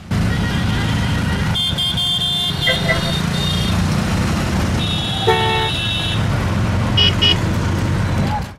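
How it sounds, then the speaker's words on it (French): Street traffic in India with car horns honking repeatedly, short toots and longer blasts sounding over a steady rumble of engines and road noise, close and loud. "En rue, ça klaxonne beaucoup, mais jamais pour râler, juste pour prévenir et éviter un accident"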